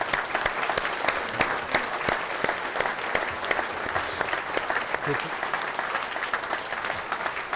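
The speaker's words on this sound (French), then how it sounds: "On peut l'applaudir." A crowd applauding Janine Durand at a mayor's New Year reception, a brisk, continuous patter of many hands with sharp individual claps standing out, steady and moderately loud throughout.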